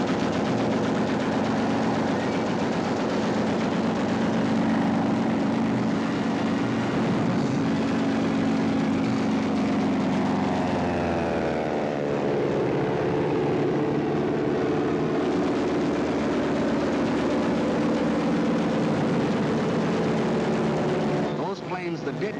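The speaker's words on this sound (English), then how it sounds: "the planes of the Luftwaffe were over Poland, wiping out the Polish Air Force" Luftwaffe warplanes over Poland, with loud droning aircraft engines and propellers sustained throughout, mixed with bursts resembling machine-gun fire in a dense wartime battle soundtrack.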